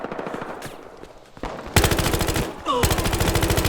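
Battlefield video game gunfire: loud, close bursts of rapid automatic fire, with a quieter spell of shots leading into two sustained rattling volleys.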